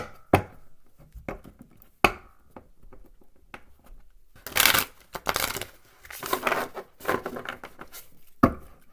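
A deck of tarot cards is shuffled and tapped in a quiet room, with sparse soft clicks followed by several louder, rustling bursts of riffling and sliding cards.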